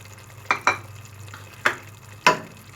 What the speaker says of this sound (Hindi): अब हम डालेंगे इसमें प्याज